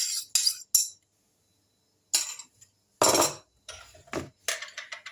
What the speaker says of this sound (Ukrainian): Далі яйця трошки розмішаю вилкою.